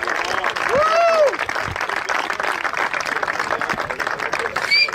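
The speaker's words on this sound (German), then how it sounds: "Einen herzlichen Applaus." Applause from a crowd at a tractor race in Biebesheim, steady clapping filling the whole stretch, with a voice talking over it near the start and whistle-like tones rising briefly above the noise.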